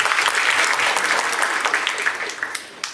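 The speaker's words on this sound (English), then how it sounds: "Can we have a round of applause for Ranjit" An audience applauds at an indoor event, a dense, steady patter of clapping that thins slightly toward the end.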